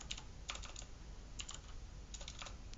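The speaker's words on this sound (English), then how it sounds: "If I can type." Clusters of quick keystrokes on a computer keyboard while creating a new class in code, close and fairly faint, in short bursts with pauses over steady background hiss.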